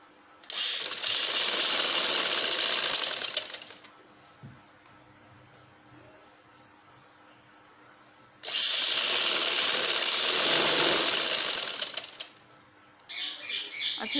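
Sewing machine stitching the waistband of a dhoti shalwar, running in two long, loud steady bursts of about three to four seconds each, separated by a quiet pause, with a short start-up burst at the end.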